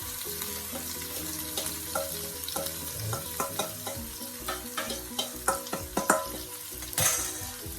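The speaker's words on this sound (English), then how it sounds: "I'm just going to give that a stir." Saltfish sizzles and crackles steadily in hot oil while a utensil stirs, scraping and tapping the pan in an uneven rhythm.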